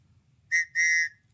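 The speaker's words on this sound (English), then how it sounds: "Blow the whistle again." A whistle blown twice in quick succession, a short shrill toot followed by a slightly longer one, close and clear over a quiet background.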